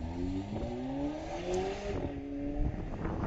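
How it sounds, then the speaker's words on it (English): A Volvo S60 Polestar race car runs on the Kari Speedway track, its engine note climbing steadily as it drives past at close range, loud and continuous with no talk. "You can actually hear the cars once they start running."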